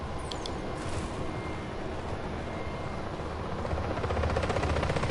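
A helicopter in the action game Just Cause hums and whirs steadily at moderate distance, its rotor drone rising slightly toward the end, with no one speaking.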